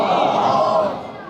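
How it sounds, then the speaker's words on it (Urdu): A large religious gathering's crowd chants slogans in a loud, dense roar of many voices, sustained for a moment and then tapering off slightly. "نہیں بھائی نعرے نہیں لگاؤ"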